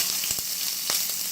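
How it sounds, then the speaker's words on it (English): Diced ham stir frying in a pan over medium-high heat, a steady close hiss of sizzling fat with a few soft scrapes and taps of the spatula. "we're just going to stir fry this ham a little bit"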